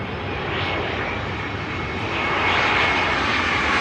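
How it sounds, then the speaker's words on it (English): A jet airliner roars steadily overhead, a loud broadband engine rumble that swells slightly toward the end, with no voices. "I want to go with Airbus A320."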